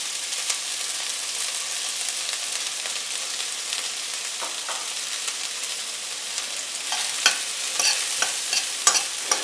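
Garlic, onion, chili, turmeric and lemongrass sizzling in a frying pan for a Thai yellow curry, a steady close crackle with scraping stirs and spatula clicks growing more frequent toward the end.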